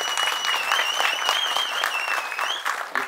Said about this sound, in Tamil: கண்டிப்பாக கைத்தட்டும்.